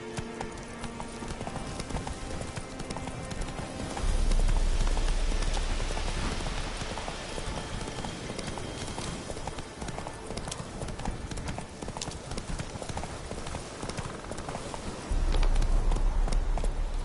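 Roach the horse trots with steady clip-clopping hooves in The Witcher 3, a continuous rhythmic patter under a dense game soundscape, with a voice urging the horse on.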